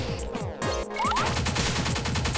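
Explosion bursts in the video game Pineapple Smash Crew, loud and close, with a sharp crackling blast followed by rapid rattling debris and continued gameplay noise.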